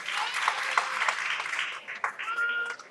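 An audience at a women's day event gives light, scattered clapping, a thin patter of hands at moderate distance that goes on for a few seconds.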